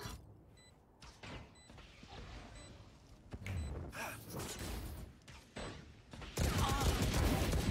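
Gunfire in the video game Valorant comes in bursts of sharp shots over quiet stretches, growing louder toward the end with a heavy final barrage.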